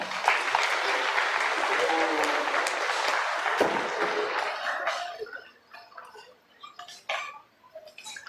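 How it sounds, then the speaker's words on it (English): Spectators at a youth livestock show applaud a young exhibitor in the ring, steady crowd clapping that thins and fades out after about five seconds, leaving scattered claps and faint background noise. "let's give him a round of applause."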